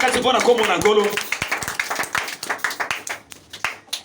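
A Pentecostal church congregation claps at a service, with a voice talking briefly first, then sparse, uneven handclaps that build into a loose, scattered rhythm close by.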